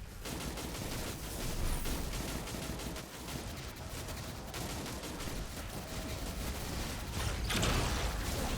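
Dense continuous gunfire in Destiny 2 aimed at a minotaur's head, a steady roar of rapid shots and battle noise layered throughout, with a louder swell near the end.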